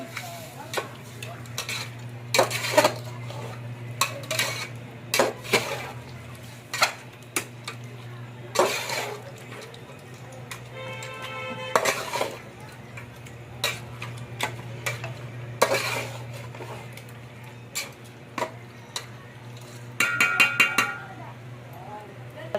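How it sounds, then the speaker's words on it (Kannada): A spoon stirs chicken curry with garlic paste, salt and turmeric in a metal pot, giving repeated clinks and scrapes against the pot in an uneven rhythm. "ಹಾಕ್ಕೊಂಡು ತಿರುಗಾಡ್ತೀನಿ ರೀ. ಇವಾಗ ಎಲ್ಲ ಕಡೆ ಮಿಕ್ಸ್ ಆಗಂಗ ಬೆಳ್ಳುಳ್ಳಿ ಪೇಸ್ಟ್ ಎಲ್ಲ ಕಡೆ ಮಿಕ್ಸ್ ಆಗ್ಬೇಕಲ್ರಿ"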